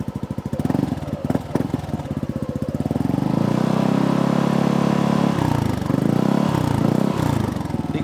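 Yamaha NMAX turbo scooter with a WRX Silent exhaust revved up from idle, close by, the engine note climbing into a sustained drone, dipping, then rising again in short blips.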